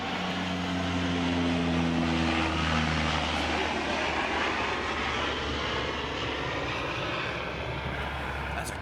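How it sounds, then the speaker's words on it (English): A large jet airliner passes overhead near an airport by a gravel-pit lake, its engine roar loud and steady throughout, with a droning low hum that fades slightly toward the end. "That's a great big jet."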